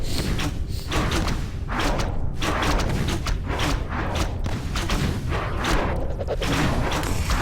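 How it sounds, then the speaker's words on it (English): An acid bomb attack in a Warcraft III battle, heard as dense, heavy thuds and booming impacts layered over continuous game noise, loud and crowded without a break. "Oh, long range acid bomb, very nice."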